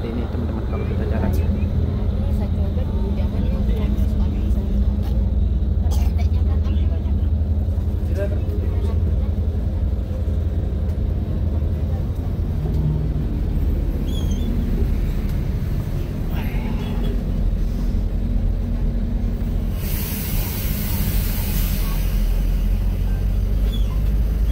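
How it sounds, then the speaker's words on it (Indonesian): A bus from the legendary Alam Indah line rumbles steadily from inside the cabin while it drives, a loud continuous low drone with someone talking over it throughout. "Dan sekarang busnya sudah jalan, saya pun jalan di atas bus ya."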